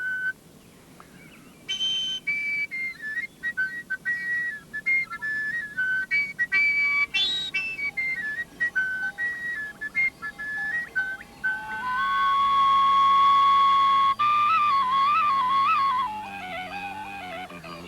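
A folk pipe flute from Romania is played with a finger at the open end, its breathy tone rising and sliding through short, chirping notes before settling into longer, steady wavering tones, alone and close.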